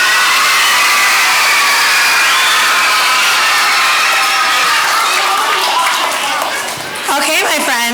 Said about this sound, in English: one more round of applause for our September winners